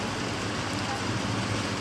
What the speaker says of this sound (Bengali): ছাতা গাড়িতে রেখে এসেছি আর বৃষ্টি স্টার্ট হয়ে গেছে